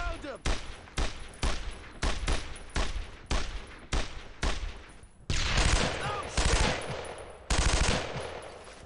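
Rapid bursts of automatic gunfire in the World War II shooter Brothers in Arms: Road to Hill 30 hammer out in a regular rhythm of loud, near volleys, then merge into longer sustained fire.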